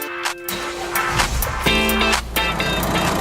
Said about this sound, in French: nous n'avons plus qu'à remettre le véhicule en route